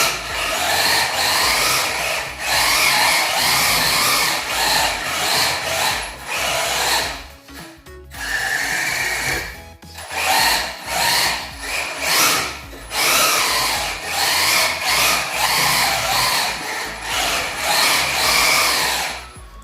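A 1/16-scale RC drift car modelled on the FD RX7 runs its electric motor at high speed, a loud, harsh whine that surges and drops in repeated bursts with one brief pause midway.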